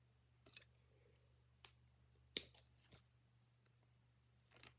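Scissors trimming black material for a fishing fly give a few sharp, isolated snips close up in an otherwise quiet room, with one louder cut in the middle.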